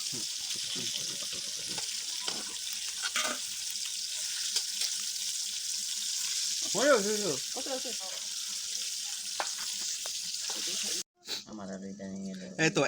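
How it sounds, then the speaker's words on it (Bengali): Batches of chicken frying in oil at an outdoor family picnic, a constant hissing sizzle running steadily underneath with occasional talk and clatter, cut off near the end. "এইভাবে আমার অনেকগুলা একের পর একে আমি ভেজে নিচ্ছি"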